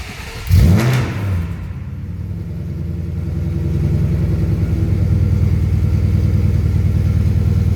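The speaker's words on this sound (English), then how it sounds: "Nice little rumble coming out of that exhaust." A 2010 Ford Mustang Shelby GT500 engine starts with a sharp burst, then settles into a steady, deep exhaust rumble that grows slightly louder and holds close by.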